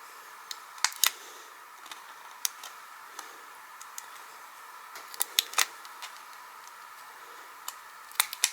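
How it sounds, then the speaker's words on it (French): Small scissors snip through Pergamano parchment paper, faint sharp clicks scattered irregularly over a quiet background, close and isolated, with a few clustered cuts. "mettre le ciseau, les lames du ciseau dans les trous et de couper"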